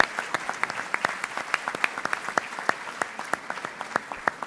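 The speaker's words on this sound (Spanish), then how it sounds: "El aplauso para recibirlo y saludar su presencia." An audience at a university event applauds to welcome a speaker, a dense even patter of many hands clapping for several seconds at moderate distance.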